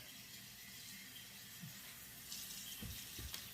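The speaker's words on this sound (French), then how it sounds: "Et on va rincer la perruque." Running tap water rinses a smoke-treated wig in a sink, a steady broadband wash with a few brief splashes and handling knocks near the end.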